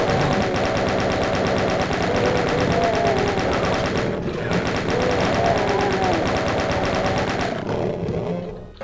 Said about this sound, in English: let's grab the chain gun out